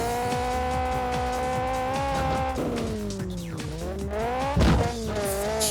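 In Test Drive: Eve of Destruction, a car's handbrake turn produces a loud, sustained tire skid over a steadily revving engine, the squeal sliding in pitch before a sharp thump near the end.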